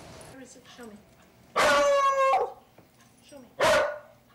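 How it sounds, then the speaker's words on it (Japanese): Two loud, sharp barks from a bed bug detection dog, the first longer and drawn out, the second short, with quieter background murmur between them. "こっから出てくる匂いに反応してこのマックス君、えー、激しく吠えました"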